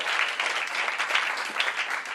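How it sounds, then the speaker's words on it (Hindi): A large audience applauds at a church preaching event in Lahore, Pakistan, producing a dense, continuous wash of clapping that holds steady throughout at a moderate distance. "अपना हाथ दिखाइए और जोरदार तालियां बजा के दिखाइए"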